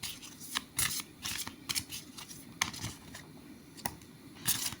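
Tarot cards being handled and shuffled in bursts of crisp riffling and sliding, close and fairly soft, with short pauses between each flurry.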